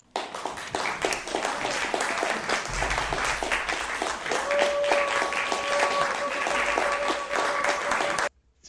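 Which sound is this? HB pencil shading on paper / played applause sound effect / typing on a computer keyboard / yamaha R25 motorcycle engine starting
played applause sound effect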